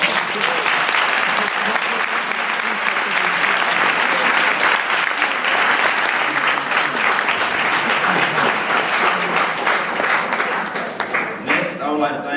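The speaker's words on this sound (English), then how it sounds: "Let's give them a round of applause." An audience gives sustained, loud applause after a college debate between campus Democrats and Republicans, with dense, even clapping that thins toward the end as voices emerge.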